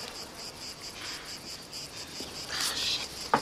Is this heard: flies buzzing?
yes